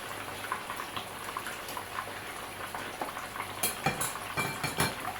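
Salted fish frying in a pan at home, a soft continuous sizzle with clinks and scrapes of a utensil against the pan growing busier toward the end.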